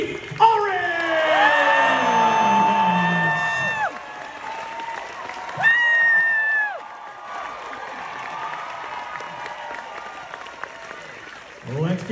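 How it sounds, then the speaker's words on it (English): A fan expo audience at a Scream panel claps steadily while long whoops and cheers rise in two distinct waves, then the applause settles into a softer continuous patter. "Give it up for Skeet Ulrich"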